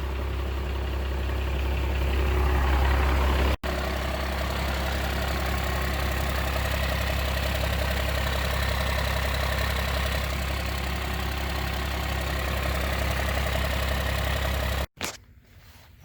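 A 12-valve Cummins diesel idles with a freshly fitted 4-inch turbo-back exhaust, a steady loud low rumble running almost without break before cutting off abruptly near the end.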